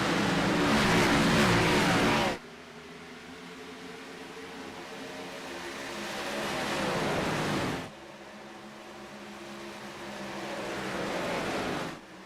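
Race cars accelerating at a restart at Texas Motor Speedway in a sim racing game, a loud sustained engine roar that swells and drops in several long waves as the pack passes.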